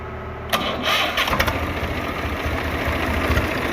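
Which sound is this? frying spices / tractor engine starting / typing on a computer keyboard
tractor engine starting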